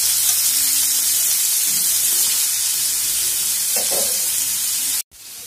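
Chopped onions fry in hot oil for a lote fish jhuri, a loud, dense sizzle with occasional scraping strokes of stirring, close up, which cuts off abruptly near the end and then returns more quietly.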